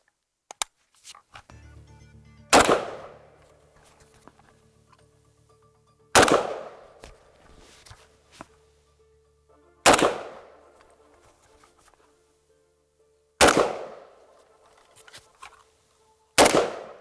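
Five loud, sharp shots from an AK rifle firing 7.62x39 or similar at a shooting range. They come singly every three to four seconds, each with a short ringing echo, with quiet handling noises between them.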